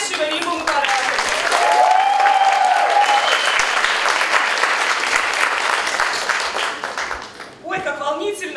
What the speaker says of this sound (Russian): Ваши аплодисменты Таишева Римма Мукарадовича.